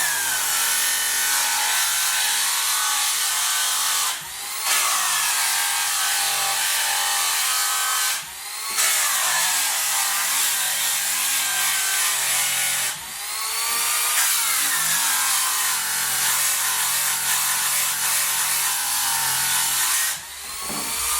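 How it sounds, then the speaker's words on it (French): A power drill fitted with a wire brush strips the steel fittings of a trunk, giving a continuous harsh, high scraping whine that stops briefly three times before resuming at full loudness. "Maintenant, exemple ici, je vais décaper cette partie-là."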